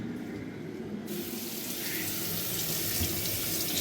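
Hot tap water runs steadily into a sink to thaw a frozen lobster, a constant close splashing stream that brightens and grows slightly louder as it goes on.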